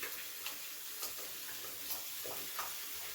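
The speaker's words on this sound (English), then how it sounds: "I'm going to continue to fry up these steaks till we get them all done" Cube steaks frying in a pan for smothered steak, a steady soft sizzle with light ticks and occasional stirring scrapes, fairly quiet and close, no talking.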